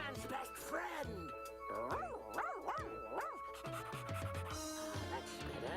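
A person's voice imitates a dog, giving a run of rising and falling barks, yips and whines, with playful dog-like howling noises from start to finish.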